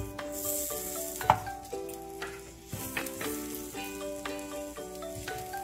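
Chopped green chillies frying in a pan, a close, moderate sizzle with repeated spatula stirs and scrapes, one sharp clink early on, no talking.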